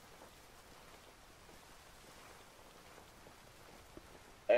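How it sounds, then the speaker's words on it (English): Soft, steady rain patters continuously at low volume in the video game Ghost Recon Wildlands, a gentle wash of droplets with no voices, ending in a short louder burst. "It's raining, it's wet."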